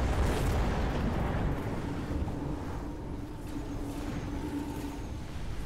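Missiles and fire land in a Mechabellum battle, a dense rumbling roar of explosions and burning that stays loud and steady throughout, with a faint tonal hum running underneath.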